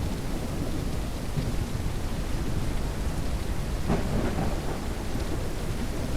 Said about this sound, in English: Thunder scared me.